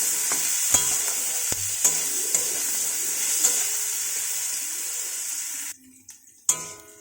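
Chopped onion added to fried potatoes in a village kitchen, sizzling steadily in the pan while a spatula scrapes and stirs with repeated knocks; the sizzle drops away near the end, leaving brief clatter.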